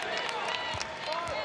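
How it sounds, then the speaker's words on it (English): A basketball crowd at a 2016 Stanford vs SMU game gives a round of applause as a player leaves the court, a dense wash of clapping and crowd noise running steadily beneath a commentator's voice. "Ogilvy goes out, receives a nice round of applause"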